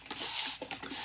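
Quick hissing bursts from a spray bottle misting water onto chalkboards, several short pumps in close succession, loud and close.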